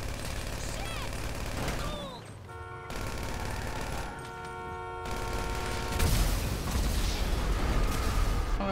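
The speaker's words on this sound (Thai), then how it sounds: "มันยิงจรวดออกมาได้" A vehicle in GTA V fires rockets, giving a loud, continuous barrage of rapid shots and blasts that starts and stops, with a steady engine drone underneath.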